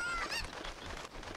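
A cuckoo, the chicken-like bird from Zelda Ocarina of Time, lets out brief squawking clucks, up close over dense game background noise.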